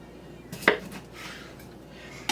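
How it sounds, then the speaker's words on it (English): A knife cuts through a sprouting seed potato, giving a short crisp chop followed by a softer scraping slice and a final tap, close and moderately loud with no talking. "we are going to cut the potatoes up"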